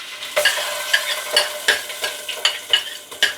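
Ginger and garlic dropped into hot oil for a pulao crackle and sizzle loudly, with sharp rhythmic scraping strokes of a spatula repeating about every half second, close up.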